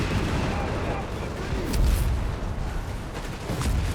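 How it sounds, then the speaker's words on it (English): Mills bomb grenades burst in Company of Heroes 3, a heavy rumbling run of booms and gunfire under continuous commentary. "Grenades, they're being chucked, the Mills bomb."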